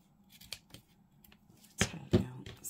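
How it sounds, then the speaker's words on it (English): Scissors are handled and snip during fabric embellishment work for junk journals, a few quiet clicks followed by two louder, close crisp cutting strokes, with no talk. "I don't know why I've got those scissors out."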